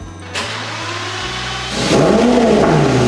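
V12 engine of a Lamborghini Murcielago revving up from a low idle, climbing into a loud, sustained high-pitched roar close by.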